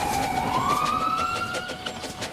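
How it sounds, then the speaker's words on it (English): An ambulance siren sweeps upward in pitch and holds a steady wail as the vehicle speeds past, moderately loud over faint traffic noise. "The engines watched anxiously as the ambulance sped past"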